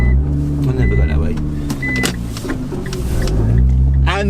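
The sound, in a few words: 660 BHP Nissan GTR driving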